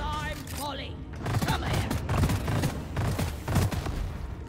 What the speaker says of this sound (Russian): Бронебойные патроны хорошо бьют.